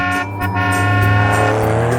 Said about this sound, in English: Look, there is a car.